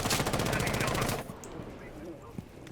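Rapid automatic gunfire rattles in a fast, steady burst for about a second in Rainbow Six Siege, then cuts off, leaving quiet game ambience with faint scattered sounds.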